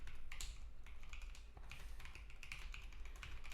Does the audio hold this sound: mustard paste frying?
no